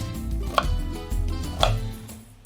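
A knife chopping onion on a kitchen board while preparing lavash rolls: two sharp, crisp chops about a second apart over a low background hum, with no talking.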